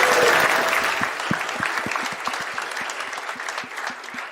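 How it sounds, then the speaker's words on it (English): An audience at an investment summit finale applauds the pitches, starting as a full wash of clapping that thins into distinct, scattered claps from a medium-sized crowd. "Let's have another round of applause."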